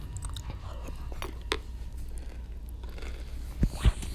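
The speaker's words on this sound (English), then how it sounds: "Could you hear me chewing this cereal?" Someone chews crunchy cereal close to the mic, with soft crunches and a few sharper bites near the end.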